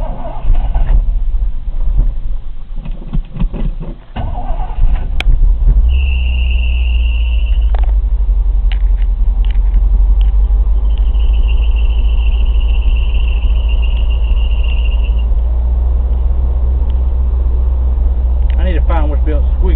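A carbureted 1984 Chevy Scottsdale truck cranks over, then settles into a loud, steady idle after a cold start, with a high belt squeal coming and going and clicks early on.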